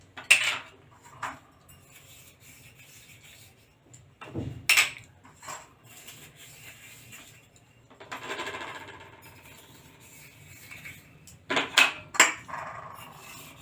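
Small aluminium cupcake cups clink and rattle as they are buttered, sharp metallic taps in scattered bursts with quiet gaps between, close to the microphone and without talk.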